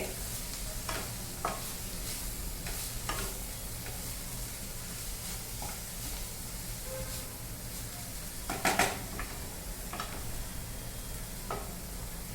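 Chopped tender chickpea leaves being stirred in a pan: a quiet continuous sizzle with scattered scrapes and taps of the spoon, and a brief louder clatter near the end, no speech.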